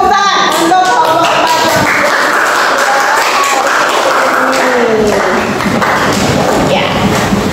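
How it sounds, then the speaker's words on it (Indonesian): Students in a classroom clap for a group during a team game, loud, close applause with thumps and overlapping shouts and voices throughout. "Tepuk tangan untuk kelompok"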